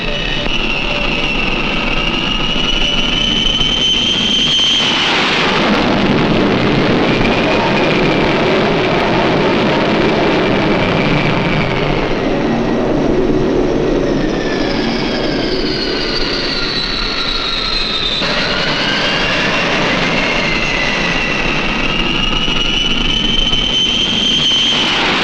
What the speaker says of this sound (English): Bearcat 12 takes off for its practice strike over London.